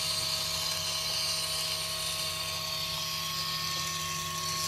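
Benchtop wire EDM cutting quarter-inch aluminum, a steady mechanical whine with constant tonal hum and hiss, unchanging and close, no voices.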